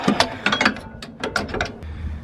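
Latch pins on a SnowEx 1075 snow plow mount for a Chevy Silverado slide in and out, making a quick run of short metallic clicks and ratcheting clacks in two close bursts, near and fairly quiet.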